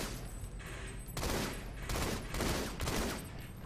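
Rapid gunfire in the video game Halo 2, several dense automatic bursts in quick succession, loud and close, with brief gaps between volleys and no voices.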